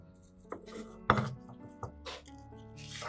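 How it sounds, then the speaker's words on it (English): Green onions being chopped on a board with a knife, producing a few distinct, uneven knocks, one noticeably louder, over a quiet background with faint clinks of kitchenware. "While waiting, I chopped up the green onions."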